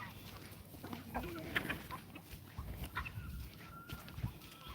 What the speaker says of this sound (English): these are the most greedy birds I've ever seen in my life